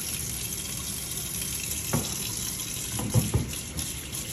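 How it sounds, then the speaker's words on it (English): A kitchen tap runs steadily while hands are washed before making meatloaf, a constant close hiss of flowing water with a few soft splashes and knocks near the end, no voices. "the first step is to wash your hands"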